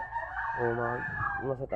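A rooster crows nearby, a loud harmonic cock-a-doodle-doo with a rising start and drawn-out wavering tail, heard alone.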